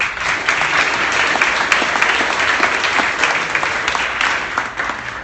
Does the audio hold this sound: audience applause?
yes